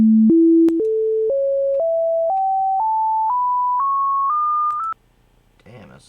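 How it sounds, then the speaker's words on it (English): Pure electronic sine tones climb a harmonic series from a low fundamental, stepping upward in pitch about every half second. They are loud, steady and alone, ending abruptly before faint noise. "using electronic sine tones starting with 110 Hz"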